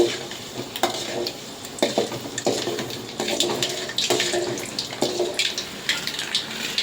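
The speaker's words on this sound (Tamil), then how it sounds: "கடுகு நல்லா பொரியுது." Mustard seeds pop and splutter in hot oil during Tamil-style tempering, giving a continuous crackling sizzle with scattered sharp spits and occasional stirring clinks, fairly close and steady throughout.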